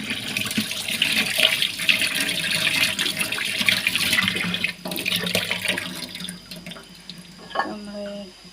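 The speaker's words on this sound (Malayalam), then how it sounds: "ഞാൻ ഇച്ചിരി കൂടെ വെള്ളം ഇതിലേക്ക് ആഡ് ചെയ്യണം" Water pours and splashes into a pan of fish curry, a loud, close gush with dripping and sloshing that eases off toward the end, with a little background noise but no clear talk.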